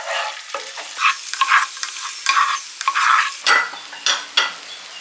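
Cashews and raisins frying in oil are stirred steadily, giving a loud, close sizzle broken by repeated scraping strokes. The stirring rhythm runs on without pause and no one speaks.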